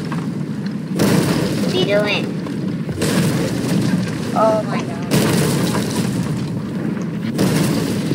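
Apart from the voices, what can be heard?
cannon fire from the video game Sea of Thieves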